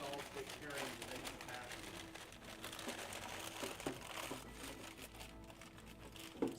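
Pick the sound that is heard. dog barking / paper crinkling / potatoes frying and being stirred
paper crinkling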